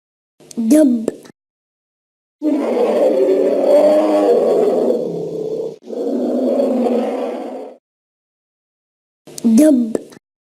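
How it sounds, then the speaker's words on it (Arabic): A deep, rough, sustained bear roar lasting several seconds with a brief break, loud and close, set between short spoken words before and after. "دب"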